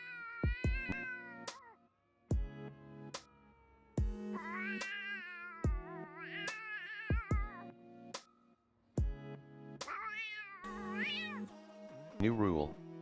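A person imitates a cat, making a run of close, loud, drawn-out meows with sliding pitch, one after another with short breaks.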